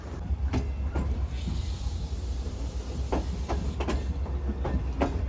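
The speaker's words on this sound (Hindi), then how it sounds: "ये ZC चढ़ चुका है ब्रांच लाइन पर, डब्बे उसे फॉलो करते हुए आगे बढ़ रहे हैं।" Shah Hussain Express carriages rolling onto a branch line, a continuous low rumble with repeated clicking and clacking of wheels over rail joints and points, heard close from on board.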